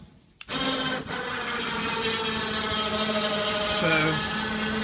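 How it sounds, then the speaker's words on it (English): A 2-ton ceiling winch hauls model railway tables upward on a 16-pulley system, starting with a thump and then a steady, loud motor drone that holds evenly throughout, with some faint background noise. "So the winch in the ceiling there is a 2-ton capacity, pulling the tables up"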